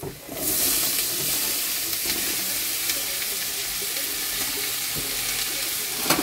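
Onion, three kinds of capsicum and green chillies sizzle and hiss steadily in a hot pan as they are stirred, a continuous close frying sound with occasional scraping clicks and no talking.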